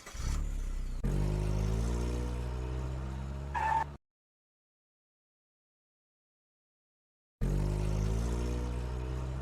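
A car engine revs and accelerates loudly for about four seconds, cuts to silence, then the same steady engine drone returns near the end, close and alone with no talk.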